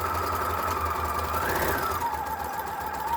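A sewing machine stitches down the raw curved edge of a fabric face mask, its steady motor whir and rapid needle chatter running continuously and close.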